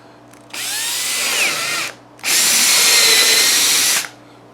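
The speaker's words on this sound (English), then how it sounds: "So I'm just going to use this kind of to drill over the top of. And I'm using a step drill." Power drill turning a step drill bit through a cutting mat, two close, loud bursts, the first about one and a half seconds and the second slightly longer, with a short pause between.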